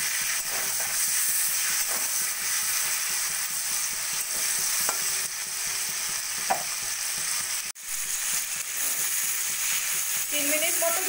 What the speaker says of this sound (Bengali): 2-3 মিনিট মতো ভেজে নিয়ে আমি চিংড়ি মাছগুলোকে তুলে রাখবো।